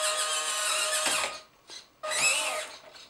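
A small electric motor on a 1/18 scale EasyRC Squarebody Chevy long bed RC truck whirs at light throttle in high-pitched bursts, with a short gap and a brief blip between two longer runs.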